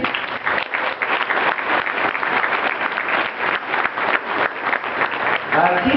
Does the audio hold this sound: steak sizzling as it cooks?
no